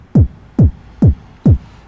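Four punchy, deep UK garage kick drum hits with a quick downward pitch sweep, evenly spaced about every 0.45 seconds, dry and isolated.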